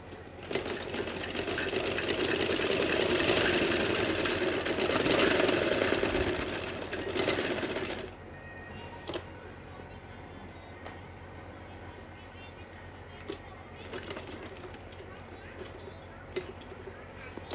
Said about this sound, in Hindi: ये यहाँ से फोल्ड करते हुए स्टिचिंग कर लें।